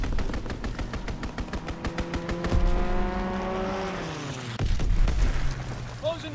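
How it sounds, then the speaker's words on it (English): Call of Duty: WWII fighter aircraft strafing run, rapid machine-gun bursts rattling in quick succession as an engine drone sweeps past with a falling pitch, followed by a heavy thud and more firing. "Call for a strafing run."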